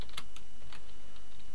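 Rapid, close clicks of typing on a computer keyboard come in a quick, uneven burst of keystrokes with no voices.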